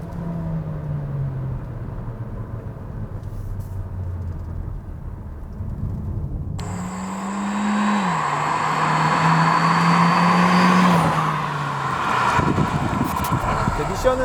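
Hyundai Kona 1.6 turbo petrol engine with a seven-speed dual-clutch gearbox, accelerating in sport mode and holding each gear longer. A steady cabin drone climbs in pitch, drops at a shift, then rises again over road rumble.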